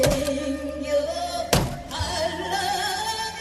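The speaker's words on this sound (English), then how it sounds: "The sound you hear above the music is the thud and thwack of a South Korean man smashing his own Japanese car." A South Korean man smashes his own Japanese car, landing heavy thuds and thwacks, one sharp loud blow standing out over music playing in the background.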